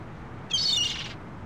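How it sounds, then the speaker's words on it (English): A hungry seagull in the Venice setting of the video game The Longest Journey gives a single bright, drawn-out cry lasting about half a second over a steady low background hum. "It's a seagull. Poor guy looks quite hungry."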